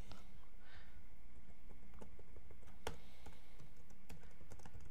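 Steady typing on a computer keyboard, with quick close key clicks in an uneven rhythm and a few sharper taps, over faint background hiss and no talking.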